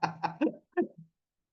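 A few short, close coughs in a quick cluster, then a brief pause and one or two softer coughs, with nothing else around them.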